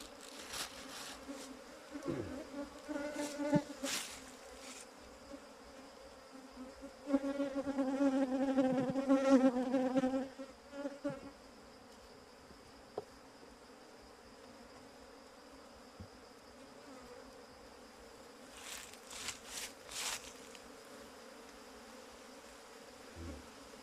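Bees buzz around a honeycomb during a honey harvest. The steady, close insect drone swells louder for a few seconds midway, with no voices.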